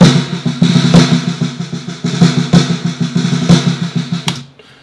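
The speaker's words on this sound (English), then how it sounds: "this is like the stereotypical like snare roll" A stereotypical snare roll on a percussion track: a dense, rapid run of crisp hits pulsing in steady waves for about four seconds before cutting off abruptly, played alone at moderate loudness.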